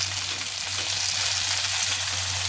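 Chicken pieces frying in hot oil just after being turned, giving a steady, close, continuous sizzle with fine crackling and a low hum beneath, no voices.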